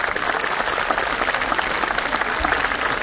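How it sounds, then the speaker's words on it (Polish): Audience applause fills the hall after an outdoor-staged opera performance of Kolberg's "Król Pasterzy" in Krościenko, a dense, steady clapping from a large crowd lasting throughout without a break. "Wielkie, wielkie brawa."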